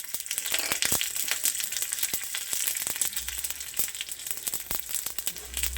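Green chilies crackle in hot oil for a Gujarati khandvi tempering along with mustard seeds and sesame, a busy close sizzle with sharp sputtering pops throughout and no talk.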